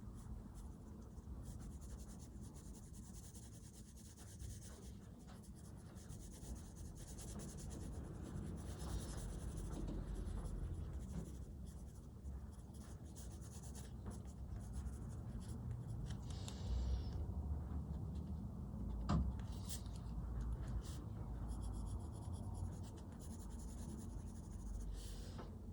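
Pencil shading the underside of a cube character drawing, soft continuous scratchy rubbing strokes on paper, quiet and close, with no talking.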